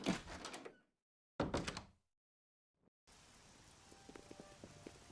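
In the video game Oblivion, two short bursts of noise and a soft knock give way to steady, gentle rainfall with faint scattered tones.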